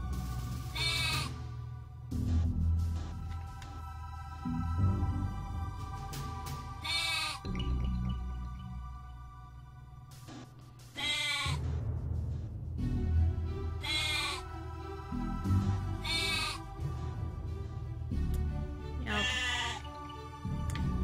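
Video game sheep bleat in loud, wavering cries every few seconds, up close, with a low droning background in between.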